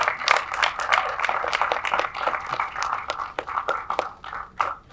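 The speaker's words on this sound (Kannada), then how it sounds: "ಅವ್ರ ಕಾಸ್ಟ್ಯೂಮ್ಗೆ, ಅವ್ರ ಪಾತ್ರಕ್ಕೆ ಡಬಲ್ ಚಪ್ಪಾಳೆ ಕೊಡ್ಬೇಕು" Audience clapping at a film trailer launch event on stage, steady scattered claps from a crowd throughout, moderately loud with no talk over it.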